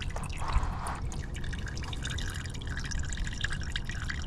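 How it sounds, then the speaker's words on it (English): Engine oil drips and trickles steadily from a Lexus RX350 during an oil change, a continuous close liquid patter with scattered drips and no talking. "Let that drain for just a sec."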